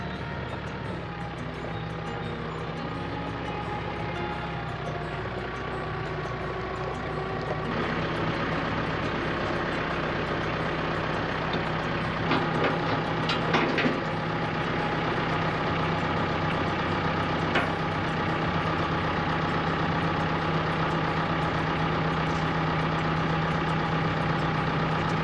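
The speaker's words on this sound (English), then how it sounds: "let's get on this wood chipper." A wood chipper's engine runs steadily at idle, a loud continuous drone with a low hum that steps up slightly in intensity partway through, with faint mechanical rattles over it.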